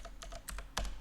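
Keystrokes on a computer keyboard during compiler programming work, a quick burst of several close, fairly loud taps in an uneven rhythm with no talking.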